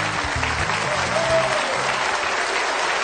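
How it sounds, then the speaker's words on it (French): A game show studio audience claps warmly for the contestant from Portugal, a short steady burst of applause with a faint murmur of crowd noise beneath it. "Très applaudi aussi le Portugal, Zé Pedro."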